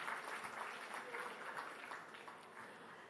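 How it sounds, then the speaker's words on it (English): Audience applause at a Lonely Planet travel awards ceremony in India, a steady, dense wash of clapping that holds evenly through the moment at moderate level, fairly distant with no one speaking over it. "Give a big round of applause."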